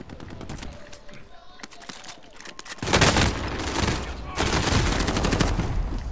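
Heavy sustained gunfire from many enemy players in Call of Duty: Modern Warfare, sparser shots at first, then a loud dense fusillade of overlapping automatic weapons from about three seconds onward.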